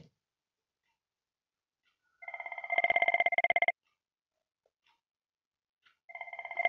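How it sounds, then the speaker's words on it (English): A Cisco IP phone rings during an internal call between two desk phones, giving two bursts of electronic warbling ring separated by a few seconds of silence, moderately loud and close, with no talk over it. "Yes, you can hear the ring"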